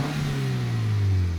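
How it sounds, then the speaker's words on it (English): Engine of a cheap used convertible bought for about £850 revs hard, a loud, close, steady mid-pitched roar that swells toward the end, with no talking. "Listen to this engine roar."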